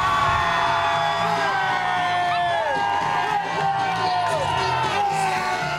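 Crowd at a Friday night high school football game in Bakersfield, loud massed cheering with whoops, yells and shouting children, continuous and fairly close throughout.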